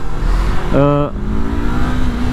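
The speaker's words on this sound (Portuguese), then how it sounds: "acelera muito bem, não demora a acelerar, desenvolve muito bem a moto" A Yamaha R3 YZF motorcycle engine rises in a brief revving surge, then settles into a steady drone, heard while riding, with talk mixed in.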